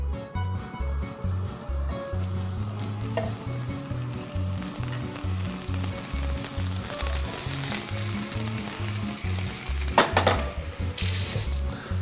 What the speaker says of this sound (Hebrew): ויש לנו בעצם זמן טיגון מאוד מאוד מאוד קצר